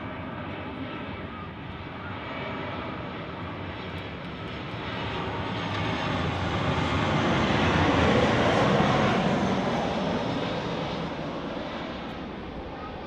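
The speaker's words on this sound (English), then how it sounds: "That was a quick landing." An airliner lands at Manchester Airport, its engines a broad, steady roar that swells to a peak midway and then slowly fades, heard from a distance without talk.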